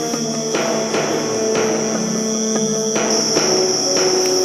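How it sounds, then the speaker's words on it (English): Crickets chirp steadily in a dense, high, pulsing chorus, loud and close, with no other sounds. "Sometimes the sound of crickets gets louder before it stops suddenly."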